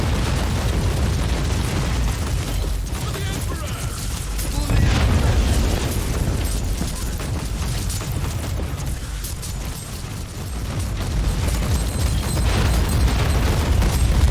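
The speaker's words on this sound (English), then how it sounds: "the tank is already attacking the Sentinel" A tank firing at an enemy Sentinel in the Warhammer 40,000: Inquisitor video game gives heavy booming blasts and explosions layered over a constant low battle rumble, loud and near, with someone talking over the action.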